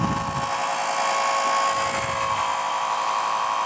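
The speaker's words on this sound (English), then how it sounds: "I'm going to turn the machine on. You'll hear the sound of the motor, and it's pretty loud" A Buon Vino Mini Jet wine filter's motor runs at a loud, steady high-pitched whine, continuous and close, with no talking.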